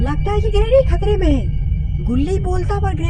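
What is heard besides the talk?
None of the usual background noises is heard.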